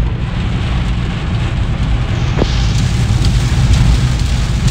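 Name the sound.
heavy rain at night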